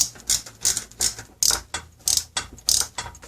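Quick bursts of a hand ratchet clicking as cylinder head studs are snugged on a Toyota 5VZ-FE V6, about eight short rhythmic pulls, close and clear with no talk.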